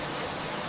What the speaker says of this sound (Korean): 빗방울만 돌 위에, 풀 위에 조용히 내려앉고 있었다.